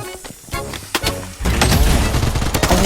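Gunfire from a P90 in the Blood Strike shooter game cracks in scattered bursts, then a thrown grenade erupts into a loud, sustained blast mixed with rapid shots.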